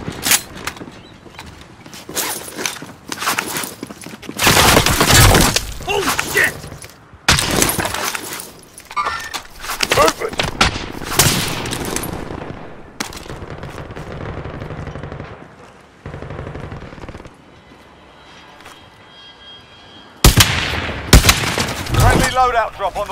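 Bursts of machine-gun fire in Call of Duty: Modern Warfare come and go in loud, choppy volleys with quieter gaps between them, while voices talk over the action.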